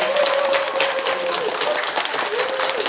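A live audience at a Won Buddhist talk concert applauds for a kyomu, a steady dense patter of clapping that holds at an even level for the whole stretch, with a faint sustained tone running beneath it.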